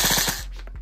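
An HK416 or Colt M4A1 CQBR airsoft rifle fires a fast full-auto burst of about five rapid, loud, close shots, then falls quiet.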